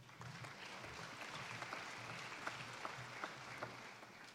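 Graduation ceremony audience applauding for Early Childhood Care and Education degree students, a steady, fairly distant wash of clapping from a large hall crowd with a few sharper individual claps standing out.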